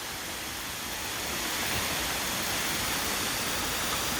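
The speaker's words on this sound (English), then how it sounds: "We told you we'd find a waterfall. Not quite frozen, but half frozen." A half-frozen waterfall at Glade Falls, British Columbia, gives a loud, steady, full-bodied rush of falling water that stays constant throughout with no other sounds.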